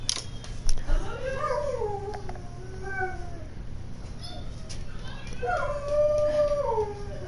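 A Rottweiler howling in drawn-out, wavering cries that rise and fall in two bursts separated by a lull, close, over a steady low background hum.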